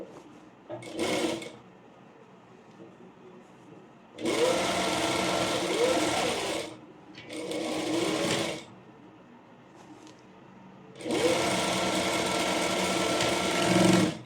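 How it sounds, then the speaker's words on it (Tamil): Sewing machine stitching a straight seam on a layered frill frock, running in three bursts of a few seconds each, with quiet pauses between and no speech. "அப்படியே நம்ம ஸ்ட்ரெயிட்டாக ஸ்டிச் பண்ணி எடுத்துக்கலாம்."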